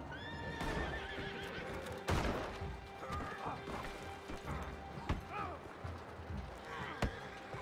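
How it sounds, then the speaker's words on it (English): A horse in a video game whinnies and snorts amid rapid galloping hoofbeats and occasional crashing thuds, with faint voices in the background. "Don't die to the horse, Garrett."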